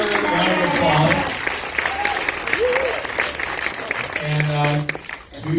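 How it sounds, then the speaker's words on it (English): Audience applause during a film Q&A session at a festival, clapping blended with crowd noise and some voices, steady across the clip and fading slightly near the end. "let's give another round of applause"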